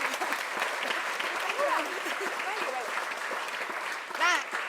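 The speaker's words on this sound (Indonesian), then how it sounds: "Tepuk tangan dulu dong." Studio audience applause on an Indonesian pre-dawn Ramadan variety show, steady clapping filling the room at moderate level, with voices and cheers faintly mixed over it.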